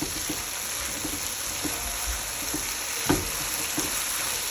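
Food frying in a pan and being stirred, a steady soft sizzle with light scraping strokes and a few small clinks, moderately quiet and close.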